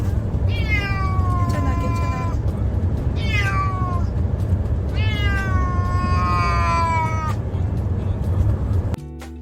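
A cat cries in its carrier during a car ride to the vet in rural Canada: several drawn-out, wavering meows in bursts over a constant low rumble of road noise.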